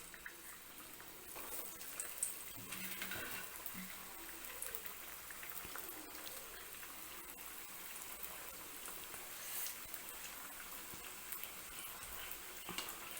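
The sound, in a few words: leftover chapathi samosa frying in oil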